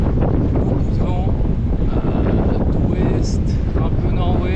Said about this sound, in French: un petit peu de soleil et surtout beaucoup de vent